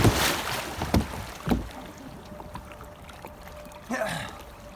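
Water splashes and sloshes around a kayak as it is flipped over, with wind buffeting the microphone and a final heavier splash.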